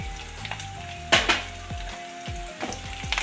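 Oil sizzles and crackles steadily as curry leaves hit the tempering pan, with a few sharp spatters and clinks of a utensil stirring, no voices.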